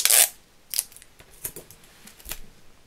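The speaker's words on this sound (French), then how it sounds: "Et un morceau de scotch" Adhesive tape torn from a roll while making a scrapbook-style Christmas photo album, starting with one loud rip, then a few short crackles and scraping snaps close by in a quiet room.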